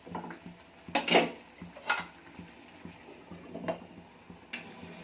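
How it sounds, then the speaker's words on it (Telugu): A spoon scrapes and clinks against a pot while stirring broccoli, potato and tomato curry, a few separate metallic stirs over a quiet simmer. "ఒకసారి తిప్పుదాము"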